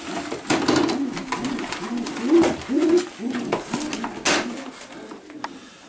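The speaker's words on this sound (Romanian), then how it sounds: "Un alt porumbel" Racing pigeons at a loft coo repeatedly in overlapping low, rolling calls, fairly close and loud, with occasional sharp clicks and knocks mixed in.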